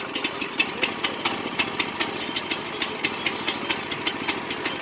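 Small trencher engine running steadily after repair, a close, loud mid-pitched idle with a rhythmic chugging pulse of about four beats per second, heard alone with no talking.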